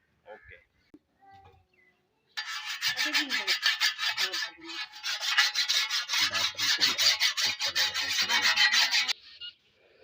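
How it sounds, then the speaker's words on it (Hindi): A blade sharpened by hand with a metal file: a steady run of rhythmic, bright rasping strokes, close and loud for about seven seconds, preceded by brief quiet handling and a few low voiced sounds. "सबसे पहले हमने इसमें रेती लगानी है"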